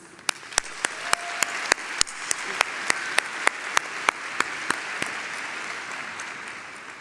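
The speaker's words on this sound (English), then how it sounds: "A round of applause, please." Commencement audience applauding in a large hall, a steady wash of clapping throughout with sharp, evenly spaced louder claps standing out near the microphone.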